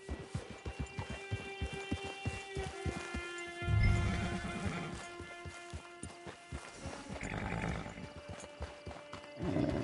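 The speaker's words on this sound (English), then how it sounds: "Hitch your horse." Hooves clip-clop steadily from a horse in the video game Red Dead Redemption 2, with a snort or neigh midway and background music and ambience.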